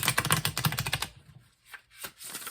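Tarot cards are shuffled close by in rapid riffling bursts, a dense clatter for about a second followed by a few softer, scattered card flicks.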